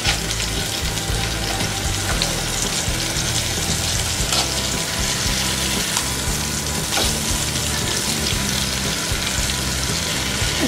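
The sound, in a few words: chicken pieces for tandoori chicken sizzling as flipped in a pan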